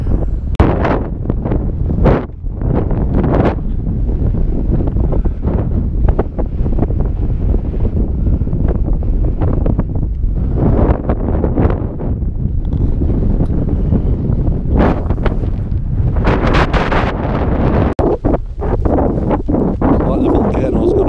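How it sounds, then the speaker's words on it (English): Strong wind on a rocky volcano hike in Lanzarote roars and buffets the microphone in a loud, continuous rumble that barely lets up. "So it's windy."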